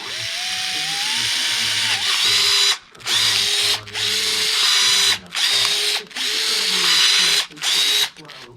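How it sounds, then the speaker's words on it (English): A power drill whines loudly as it bores a hole through a remote-control truck part, stopping and restarting in several bursts with brief pauses between. "So you just drill this through."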